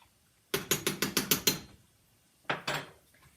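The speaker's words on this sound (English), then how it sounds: "I'm gonna grate a whole big fat bunch of black pepper in here" A pepper grinder cranks black pepper over cheese soup in a quick run of about seven sharp ratcheting clicks, a pause, then two more, close and fairly quiet.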